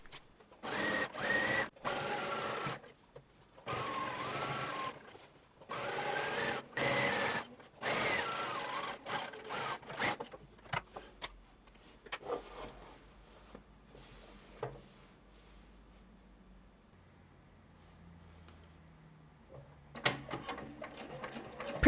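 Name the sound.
sewing machine stitching a skirt seam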